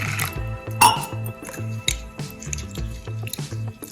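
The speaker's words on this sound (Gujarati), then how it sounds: "આ રીતના સિંગના દાણાને પણ વોશ કરી લેશું" Peanuts and toor dal are washed in water, with close squishing, dripping and light clinking in an irregular rhythm over a soft background melody.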